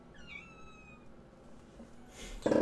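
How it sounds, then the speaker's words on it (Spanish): A pet cat meows a few times nearby, wanting to go out, with each call rising and then falling, over steady room noise and a loud thump at the end. "La gata quiere salir."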